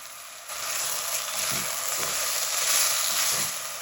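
Garlic and an inch-long piece of ginger frying in a pan for chicken corn soup, giving a steady, close sizzle that starts after a short quiet moment and carries on alone without talk.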